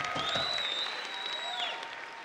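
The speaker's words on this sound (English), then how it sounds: "A round of applause for the strippers, everybody!" Crowd applause and cheering at a strip boxing event in a Las Vegas hotel casino, a dense continuous clapping with a whistle sliding across it, some voices in the crowd.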